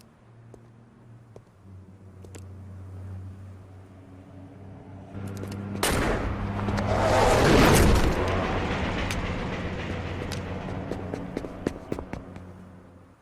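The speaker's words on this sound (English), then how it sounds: "That was a hell of an explosion." An explosion in the Saints Row video game erupts midway as a loud, sharp boom that swells into a long roaring rumble, then fades slowly over a low engine-like drone with scattered clicks.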